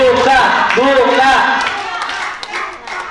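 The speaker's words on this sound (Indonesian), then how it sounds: "Tepuk tangan dong." Hands clapping at an Indonesian eating-contest prize event, with scattered sharp claps mixed under excited voices and cheers, the claps growing more distinct near the end.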